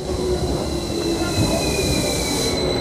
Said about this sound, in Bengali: আমার ট্রেন চলে এসেছে।